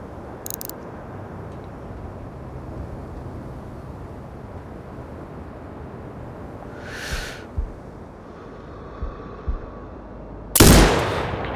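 A single loud, close sniper rifle shot from the video game Sniper Ghost Warrior Contracts 2 cracks near the end, after a quiet, rumbling ambient stretch broken by a fainter, softer burst partway through.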